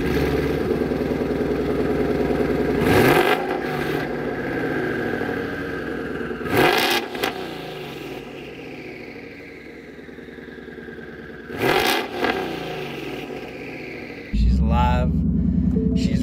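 A twin-turbo Ford Mustang GT race car engine idles loudly up close, then revs sharply in three separate bursts, settling back to a rough, throaty rumble between them.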